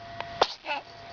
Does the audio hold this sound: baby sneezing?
yes